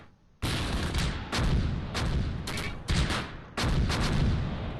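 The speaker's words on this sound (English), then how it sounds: "Mortars falling." In the World War II game Close Combat, a mortar barrage falls near Tourville in Normandy: a string of loud, close, heavy blasts and bursts with short gaps between them.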